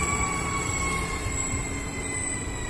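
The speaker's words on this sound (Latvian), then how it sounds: "un tā nāk vilciens" A train pulls into a new stop in Riga, its rumbling wheels steady throughout, with thin high metallic squeals held over a broad, continuous roar.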